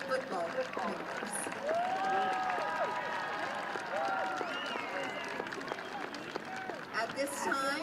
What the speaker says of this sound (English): please give a round of applause for the 2021 Searcy High School senior football members